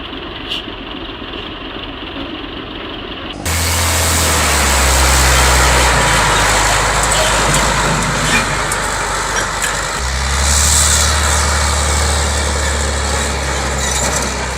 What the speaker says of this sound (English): The driver is very skillfully driving this concrete mixer truck going down a small slope